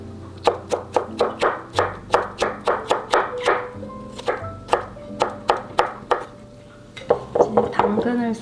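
A knife slices a cucumber on a cutting board in quick, even strokes, each cut landing as a sharp close knock, with a brief pause before more rapid slicing toward the end.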